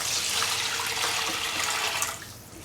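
About 400 ml of water poured into a pan of sautéed green gram and coconut, a rushing splashing pour that holds steady for about two seconds, then tails off quickly, close and alone.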